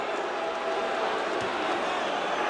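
Basketball arena crowd booing during a 1981 Boston versus Philadelphia playoff game, a steady dense roar of many voices heard at a distance, with no single voice standing out.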